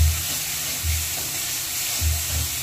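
Ground spice paste with turmeric frying in a pan for a Bata fish curry, a steady close sizzle and hiss with a few soft stirring scrapes.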